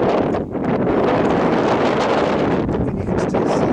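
Strong wind buffets the microphone on a mountain peak in the Sandia Mountains, a loud, constant roaring rush with brief dips, and no voices.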